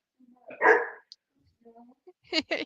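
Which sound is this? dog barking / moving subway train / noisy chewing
dog barking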